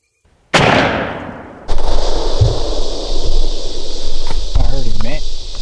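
A single sharp, loud rifle-like gunshot at a deer on Tennessee public land rings out and decays over about a second, followed by steady insect or cricket chirring with faint rustling.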